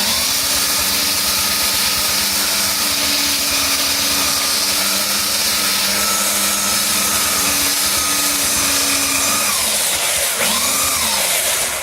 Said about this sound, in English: you might need to actually hold the belt sander up to prevent the belt sander from just slipping and not grinding it up